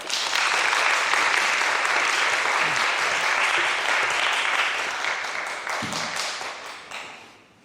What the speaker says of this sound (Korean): 한번 크게 환영하는 박수로 환영해 주시기 바랍니다